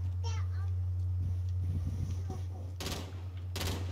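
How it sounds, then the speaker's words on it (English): Gunfire in Call of Duty Modern Warfare: a couple of sharp bursts of shots near the end, over a constant low electrical hum, with people's voices talking earlier. "he's shooting at me."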